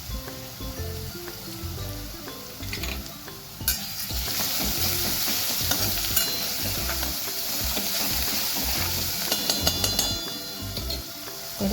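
Curry leaves sizzling in hot oil in a pan while being stirred, for a village-style ridge gourd sabzi: a constant bright crackling hiss that swells partway through, with scraping and clinking from the spoon.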